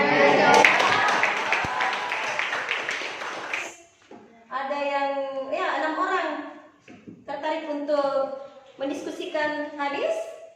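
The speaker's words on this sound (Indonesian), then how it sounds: "Tepuk tangan." Students clapping in a school classroom session, a brief burst of scattered hands at the start that gives way to someone speaking.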